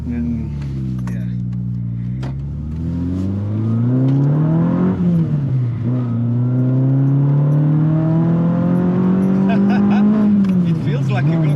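A Renault Clio Trophy, one of 500 built, pulls hard while driving, its engine note climbing steadily through the revs in a loud, close, continuous drone with a brief dip around a gear change.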